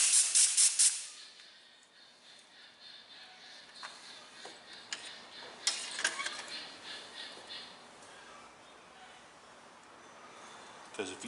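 Compressed air hisses in a loud burst at the start, clearing metal chips from a freshly tapped hole in mower-pulley work, then gives way to fainter intermittent hissing and light metallic ticks.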